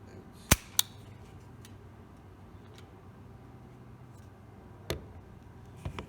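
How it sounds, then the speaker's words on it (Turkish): The metal slide of a WE M92 Beretta airsoft pistol is pulled back and released, making two sharp mechanical clacks close together, followed later by a couple more crisp clicks over a faint background hum. "Sürgüyü böyle çekip bıraktığımda evet gerçek bir tabanca hissiyatı alıyorsun."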